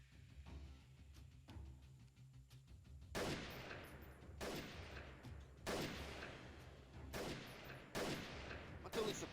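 Bursts of machine gun fire ring out in the guerrilla warfare game Freeman: Guerrilla Warfare, several sharp volleys spaced a second or two apart over a low ambient rumble, moderately distant.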